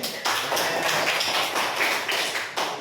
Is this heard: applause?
yes